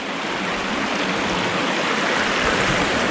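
A cold mountain creek near a trailhead on the Graham and Coal Creek loop flows in a steady, close, rushing babble with no pauses and no voices.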